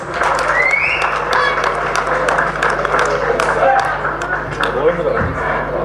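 An audience applauds as Jr NTR is welcomed onto the stage at a crowded public function; dense, steady clapping fills the whole stretch, blended with hall noise and a faint background hum.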